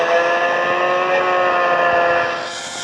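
A dirt bike engine in the Indian Bikes Driving 3D video game holds a steady, loud drone throughout, easing slightly toward the end with no voices.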